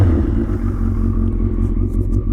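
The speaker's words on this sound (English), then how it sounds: "That deep baritone voice, baritone exhaust note." A Suzuki Hayabusa motorcycle idles with a deep, low baritone exhaust note, a steady rumbling throb heard up close with no talk.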